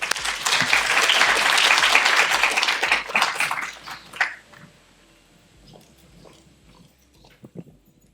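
A large audience applauds warmly to welcome a speaker at a Yale event, dense sustained clapping for about four seconds before tapering off into scattered claps and quiet room noise.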